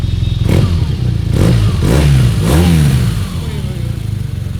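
A BMW motorcycle with a loud aftermarket exhaust revs hard three times in quick succession, each blip rising and falling with a deep, crackling bark before settling back to a rumbling idle, close and loud.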